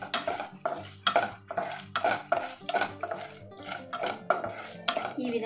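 Dry chilies, cumin, mustard seeds and lentils are fried in oil in a pan, with repeated close metallic scrapes and knocks of a spatula stirring in a loose rhythm over a faint sizzle.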